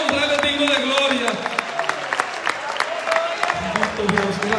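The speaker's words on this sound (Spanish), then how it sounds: "Dele ofrenda de palmas al Rey de Reyes y Señor de Señores" Church congregation clapping in rhythm as an offering of praise, a quick steady beat of hand claps under sustained voices and music.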